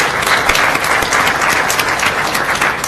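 A room full of people at a school board meeting claps steadily and densely, a sustained round of applause with no speech over it.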